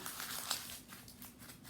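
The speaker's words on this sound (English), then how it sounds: "I have my to-do list here. I'm going to crumple it up." A paper to-do list is crumpled by hand: a brief, quiet crinkling and crushing with a sharper crackle near the middle, with no talking.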